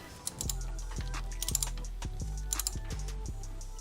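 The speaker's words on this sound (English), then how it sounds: "I'm gonna have to use the bolt to really tighten it down in there" A bolt being tightened down to secure a car part, heard as a steady series of crisp ratcheting clicks, about two per second, close up and alone against a low background hum.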